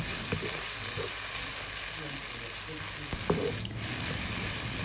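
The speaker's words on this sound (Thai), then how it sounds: "พอผัดมะเขือเทศแครอทกระเทียมให้เข้ากันดีเรียบร้อยแล้วนะคะ" Tomato, carrot and garlic stir-fry in a pan for spaghetti sauce, a soft continuous sizzle with occasional clinks and scrapes of a utensil against the pan.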